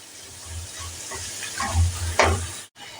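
Cumin, coriander and turmeric powder stirred in a hot pan: soft continuous sizzle with low rhythmic scraping strokes of a spoon, close by, ending in a brief sharp knock and a moment of near silence.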